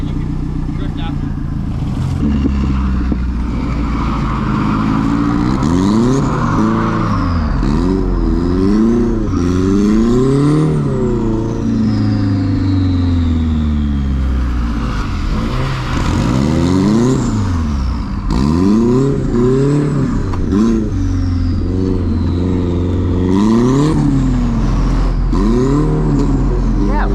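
Cars drifting in tandem rev hard in repeated rising and falling sweeps, engines loud and close throughout, with bursts of tyre noise and voices heard intermittently.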